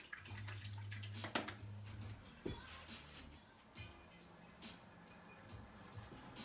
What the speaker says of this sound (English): Wash the brush.